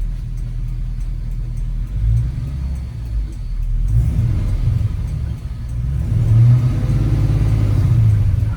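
An LS-swapped 1966 Chevrolet C10 with a badly slipping transmission in drive: a loud, close engine rumbles at idle, then revs and swells several times without pulling away, its droning note rising and falling.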